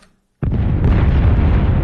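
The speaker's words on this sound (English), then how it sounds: "Just big explosions, all combined now." Layered big explosion sound effects: a sudden loud boom after a brief quiet start, then a dense rumbling roar that sustains without fading.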